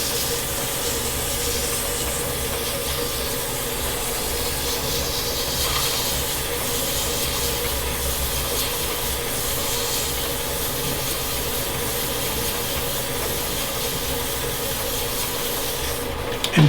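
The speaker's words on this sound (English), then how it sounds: "you're sanding in this direction with all of the oil and everything" A wooden bowl spins on a lathe while 600-grit sandpaper rubs against it with oil, giving a steady, close, continuous hissing rasp that holds evenly throughout with no talking.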